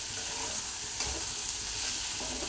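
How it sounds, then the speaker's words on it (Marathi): Okra (bhindi) frying over a high flame, a continuous dense close sizzle with faint stirring scrapes, no voices. "आता मोठ्या घासावरती चांगली फ्राय करून घेत आहे"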